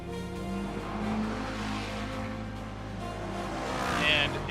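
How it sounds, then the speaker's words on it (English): GT3 race cars at Summit Point during World Challenge qualifying, a steady engine drone with a brief rise near the end, heard from a distance behind broadcast commentary. "let's get some of the noise of these cars up"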